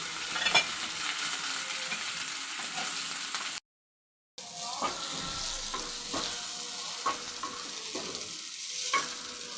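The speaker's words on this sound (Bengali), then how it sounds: "পটল পেঁয়াজ এবং রসুনটা ভালো করে ভেজে নিব" Garlic, onion, pointed gourd and green and dried chillies frying in very hot oil in a pan, a continuous close sizzle broken by repeated spatula scrapes and stirring knocks, with a brief total dropout midway.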